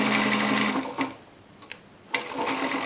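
A sewing machine stitches a trouser seam in a fast, close whirring run, pauses for about a second with a few small clicks, then starts stitching again.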